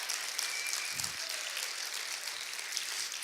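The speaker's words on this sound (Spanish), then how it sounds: "si le vas a aplaudir, apláudele bien pues" A church congregation applauding during a Spanish-language sermon, a dense, even patter of many hands clapping that holds steady for a few seconds, fairly distant and soft, with a brief low thump partway through.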